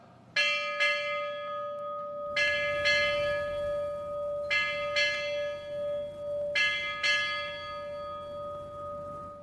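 A ship's bell struck eight times at a U.S. Navy change of command ceremony for Indo-Pacific Command, rung as four evenly spaced pairs of clear, ringing strokes with a sustained tone between them.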